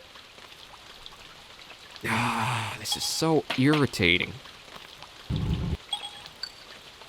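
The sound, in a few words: rain falling in a video game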